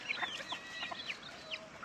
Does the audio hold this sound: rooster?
yes